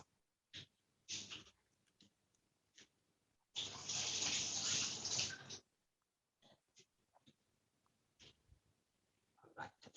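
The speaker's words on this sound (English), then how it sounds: "I'm going to wash my hands." Hands being washed under a running kitchen tap while cooking orange chicken, a steady broadband rush of water lasting about two seconds mid-clip, flanked by scattered quiet clicks and handling noises.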